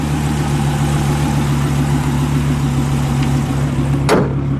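A red 2013 Dodge SRT Viper GTS with its V10 engine runs at a steady, loud, close idle, a deep continuous rumble with one brief sharp click near the end.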